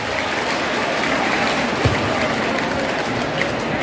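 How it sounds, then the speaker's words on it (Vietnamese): Steady, dense applause from a large crowd of students at a high school opening ceremony in Thu Duc, continuing evenly for a few seconds without a break. "các bạn hãy dành cho lớp 10A3 một tràng pháo tay thật lớn"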